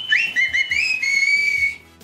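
A person whistles a rising then sustained melody, clear and close, with low rumbling background noise and no talking.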